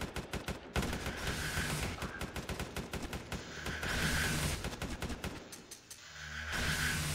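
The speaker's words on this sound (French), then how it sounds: "Ouais, ça tire là-bas, ça tire." Rapid automatic gunfire in a Roblox SCP breach game, dense bursts of video-game shots rattling almost without pause, loud and sustained, with a short lull near the end before firing resumes.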